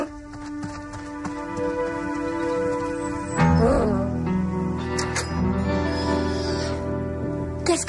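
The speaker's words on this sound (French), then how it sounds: "Et voici Terry, le plus petit cheval de cirque du monde." A tiny circus horse clip-clops its hooves over a bed of music, the hoofbeats growing louder and busier partway through and continuing to the end.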